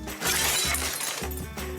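Glass shatters loudly at close range, a dense crashing burst that lingers for over a second, at a house under renovation with a burst sewage line.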